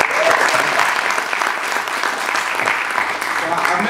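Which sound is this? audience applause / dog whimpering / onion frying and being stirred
audience applause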